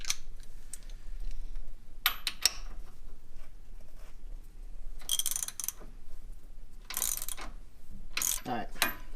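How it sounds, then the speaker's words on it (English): A ratchet wrench works on bolts during a lift kit install on a 2020 Jeep Gladiator, giving short bursts of rapid clicking at close range over a low background rumble, with scattered metallic knocks between the bursts. "I can use the ratchet now, though."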